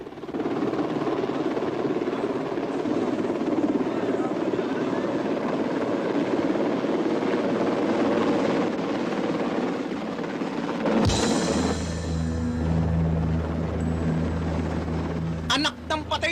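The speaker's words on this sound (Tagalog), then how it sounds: "Naka-helicopter pa!" A helicopter flies close and loud as a dense, continuous rotor roar, then changes to a lower, throbbing hum as the scene shifts, with voices briefly audible near the end.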